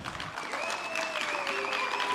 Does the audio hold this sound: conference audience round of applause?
yes